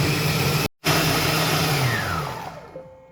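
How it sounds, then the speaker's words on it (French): A kitchen mixing appliance whirs loudly at speed 6 while blending pancake batter for Berber mkhanfar pancakes, a steady motor hum broken by a brief cut, then winding down in falling pitch and stopping. "On va mettre donc l'appareil 5 minutes à vitesse 6 et on va pouvoir mixer"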